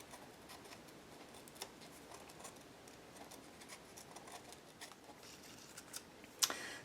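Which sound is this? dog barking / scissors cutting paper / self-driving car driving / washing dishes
scissors cutting paper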